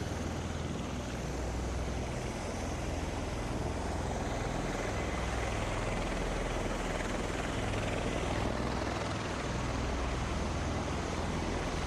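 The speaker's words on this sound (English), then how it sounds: "Secondary helicopter will follow." Helicopter engine and rotor roar steadily throughout, a loud, continuous broadband drone with low rhythmic thumping, accompanying Air Force One's arrival in San Antonio.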